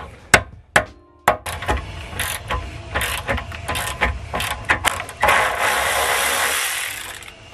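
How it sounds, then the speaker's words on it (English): Sharp metallic clicks and knocks as a grip socket is hammered onto a rusty bolt on a Ford Mondeo ST, several irregular strikes followed by a steady grinding ratchet sound. "You hammer them on, and the more you turn, the more they bite into the bolt"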